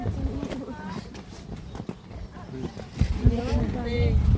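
Horse hooves clip-clop along steadily at Petite France while people chat and laugh nearby, the hoofbeats partly buried under their voices.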